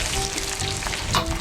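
Chicken pieces for General Tso's chicken fry in hot oil, giving a steady close sizzle and crackle with small bubbling pops, loud and uninterrupted without any voices.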